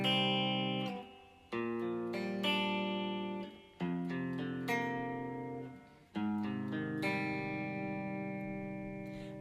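An electric guitar with effects plays a chord progression, four ringing strummed chords each left to sustain and decay, clean and alone with no voices.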